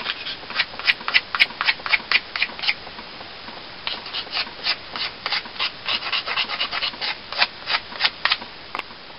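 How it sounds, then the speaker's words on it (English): Steady rhythmic strokes of a blade scraping wood while carving a wooden netting needle, close and crisp, in quick repeated bursts with a short pause midway. "All scraping."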